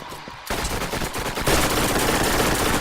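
Rapid automatic gunfire from the player's weapon in Borderlands, during Lilith's Underdome arena fight, starts abruptly after a brief lull and keeps up as loud, dense bursts at close range with no talking.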